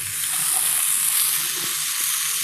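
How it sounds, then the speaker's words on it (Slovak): Vegetables and garlic frying in hot oil in a pan, a steady bright sizzle with faint stirring clicks, close and continuous, no talk. "Tak olej máme rozohriatý, môžeme tam pridať zeleninu a cesnak takisto."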